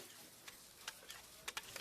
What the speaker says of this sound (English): this cheesesteak is so freshly grilled, you can still hear it sizzling